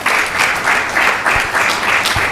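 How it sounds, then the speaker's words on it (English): An audience at a spiritual gathering in Phoenix applauds, a dense, steady wash of many hands clapping in waves that swell and ease, moderately loud and close. "a big round of applause for Maharaj again"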